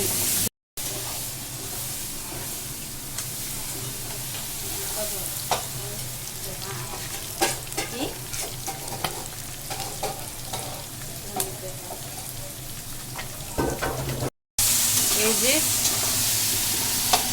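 Shrimp fried in a pan with onions browned deep dark, for a dish of taro greens: a continuous close sizzle and hiss with scattered stirring clicks, steady and fairly loud throughout.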